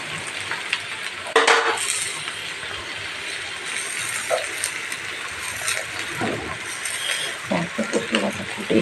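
Poppy leaves stir-fried in a hot pan, a steady sizzle with scraping stirring strokes throughout, while someone talks over the cooking.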